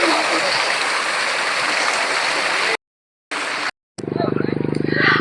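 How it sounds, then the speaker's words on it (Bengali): Raja Jhorna waterfall in Sunamganj gives a loud, steady rush of falling water for about three seconds. It breaks off abruptly and is followed by a buzzing, engine-like hum. "এটা হচ্ছে রাজা ঝর্ণা"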